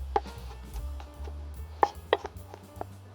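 Garlic is finely chopped with a knife on a board, giving a handful of crisp, separate knife taps spread over a few seconds, close and fairly quiet with no talking.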